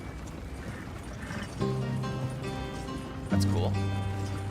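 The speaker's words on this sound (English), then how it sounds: "wild horses." Wild horses trot past in a video game, a soft clip-clop of hooves heard under steady game music and a brief spoken remark.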